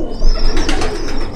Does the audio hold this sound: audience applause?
no